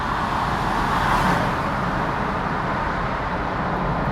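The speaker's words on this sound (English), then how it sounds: "Dude, why is this car so loud?" A regular rental car's engine and road noise from inside the cabin form a loud, steady rumbling roar that holds unchanged throughout, with no voices.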